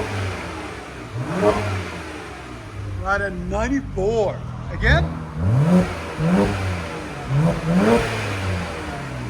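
2011 BMW 1M with a 3.0L turbo inline-six and resonator-delete exhaust, revved in several short blips that rise and fall in quick succession, close and loud, with people talking between the revs.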